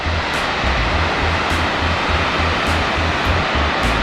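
A wide waterfall about 40 feet high on the McCloud River in Northern California, surrounded by greenery, gives a steady, loud, full roar of falling water that continues unbroken, with no voices heard.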